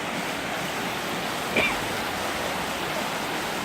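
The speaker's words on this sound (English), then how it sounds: "look at this beautiful water fountain too. I mean the waterfall." Constant broadband rush of falling water, loud and unbroken, from nearby Amicalola Falls in Georgia, a tall waterfall pouring steadily.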